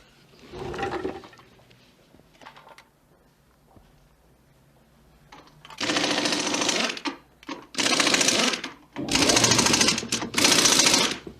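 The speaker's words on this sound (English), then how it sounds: "That is an air wrench, my dear." A pneumatic air wrench used on a car tire in a courtroom setting fires several loud, rattling bursts, short at first and then longer, with quiet gaps between them.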